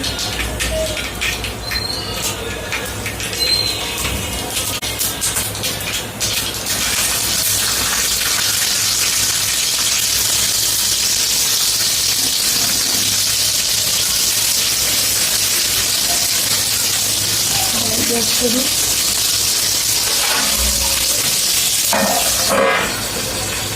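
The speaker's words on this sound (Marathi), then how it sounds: "थोडेसे राई जिरे टाकते फोडणीसाठी." Mustard seeds and cumin sizzling in hot oil for a tempering, a steady loud hiss with scattered crackles and pops that holds throughout, growing denser after the first few seconds, with no voices.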